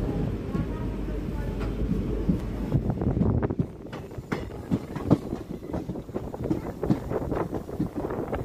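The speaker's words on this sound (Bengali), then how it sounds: "দেখতে পাচ্ছেন গঙ্গারামপুর রেল স্টেশনে ট্রেন ঢুকে পড়ছে।" Heard from on board, a train rumbles into Gangarampur railway station with steady wheel noise and irregular clickety-clack rail joints, wind buffeting the microphone throughout.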